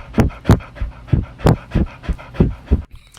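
A dog pants loudly and close by in quick, rhythmic bursts of breathy huffs, about ten in a row, with nothing else beneath.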